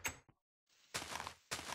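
Minecraft door sounds: a short wooden clack, then a pause, then two quick scraping thuds a moment apart, close and fairly loud, with no voices.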